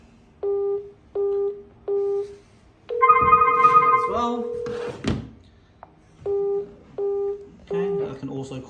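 Akuvox smart IP intercom calling another indoor monitor: repeated short two-tone ringback beeps, a burst of brighter chiming tones, a thump, then more ringback beeps, with a person talking intermittently.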